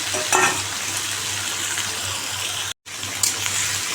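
Vegetables, pumpkin among them, go one by one into a small amount of hot oil, giving a steady, close sizzle and frying hiss with a few brief stirring scrapes.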